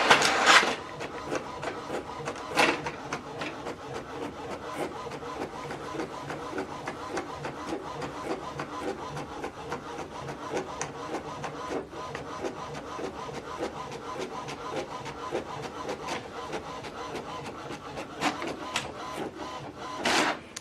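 An HP Deskjet 3700e inkjet printer runs through a double-sided color print job, with a steady, busy mechanical whir, rapid clicking and periodic louder paper-feed thumps near the start and end, heard up close without talk.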